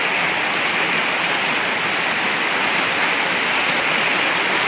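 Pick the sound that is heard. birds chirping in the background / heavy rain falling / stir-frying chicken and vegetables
heavy rain falling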